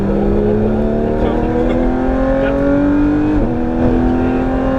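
A Porsche GT3 accelerates on the Laquais race circuit, its engine a steady, loud in-cabin drone rising in pitch with a brief dip at a gear change, while a voice speaks in the background.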